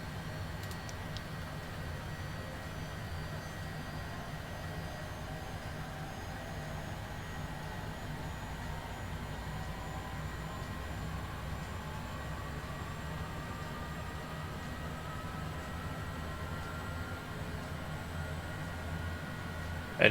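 Steady jet engine hum of a Cessna Longitude business jet spooling up and settling during engine start in a flight simulator, with a slowly rising whine over a constant low rumble, heard alone.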